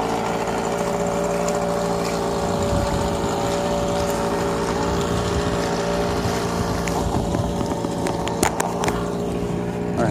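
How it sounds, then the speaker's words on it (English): A sailboat motoring into a bay, with a steady low engine hum running throughout under gusts of wind buffeting the microphone, plus a few brief knocks near the end. "Just another sailboat just pulled into the bay."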